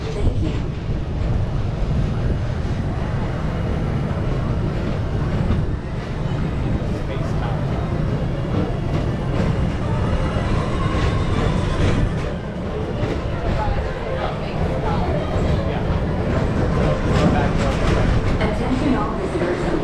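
Disneyland's People Mover, the Tomorrowland Transit Authority, rolls steadily along its track with a continuous rumble and faint clatter, heard close and unbroken, with a background announcement and crowd voices mixed in.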